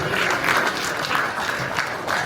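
Audience applause at a custom car show awards ceremony, a brief burst of dense clapping from a crowd indoors, steady and fairly loud throughout.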